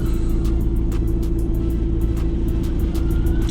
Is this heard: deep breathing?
no